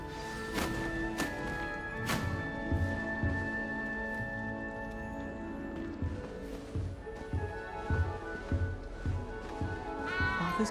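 A small, frightened cat in the Hogwarts Legacy video game meows again and again alongside sharp knocks and thuds. Most cries are brief, and a longer rising wail comes near the end.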